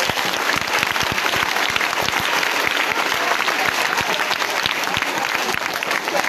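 A congregation at a Liberian school computer-lab handover ceremony bursts into dense, sustained applause, many hands clapping loudly and continuously with faint crowd voices underneath.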